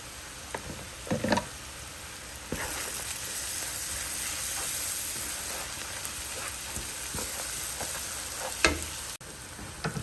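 Onions sauté with garam masala in a pan for salmon biryani, a steady close sizzle and crackle of frying that runs throughout, punctuated by several scraping stir strokes.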